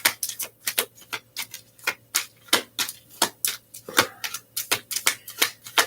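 Rapid, crisp bursts of tarot cards being shuffled, repeated in a steady riffling rhythm, close and fairly quiet with no talking.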